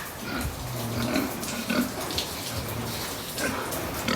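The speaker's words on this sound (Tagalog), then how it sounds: "Ito mga baboy po namin dito" Fattening pigs raised for sale grunt and snuffle nearby in short, irregular bursts, over a background of splashing, watery noise.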